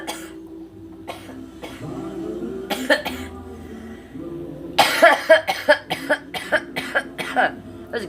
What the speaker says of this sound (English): That cough sounded like Black Sabbath Sweet Leaf, didn't it?